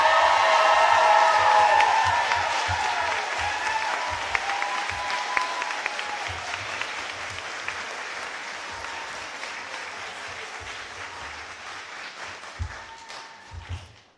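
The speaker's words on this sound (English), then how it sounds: "Another round of applause to honor our graduates." An audience applauds at a commencement ceremony. The clapping is loud and dense at first, then thins gradually over about fourteen seconds with a few scattered claps near the end. A voice is briefly heard over it.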